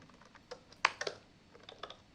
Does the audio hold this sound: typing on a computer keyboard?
yes